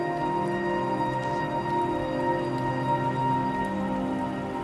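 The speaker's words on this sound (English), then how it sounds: "more like field recordings, rain sounds, things like that." Steady rain field recording, a dense even patter on surfaces with faint tonal hum lines running underneath, continuous and close throughout with no voices.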